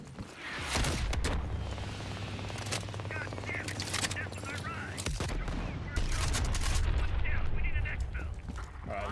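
Sustained gunfire from a QBZ rifle in the Black Ops Cold War campaign, with repeated shots and bursts throughout, under occasional voices and dense battle noise.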